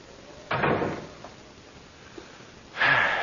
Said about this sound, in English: Come upstairs now and close the door at the bottom.